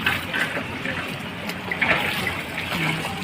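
Floodwater from a swollen river during a cyclone rushes past in a steady, dense wash, loud and close, with no clear break throughout.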